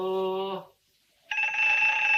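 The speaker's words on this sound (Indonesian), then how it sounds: "Maaf kita ada telepon." A telephone rings: a loud, close electronic ringtone sounds in one burst, breaks off for a brief pause, then starts again, with no one speaking.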